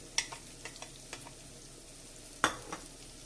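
Peppers, onion and garlic sizzle faintly in a pan, a soft steady hiss broken by a few light clicks and scrapes of stirring.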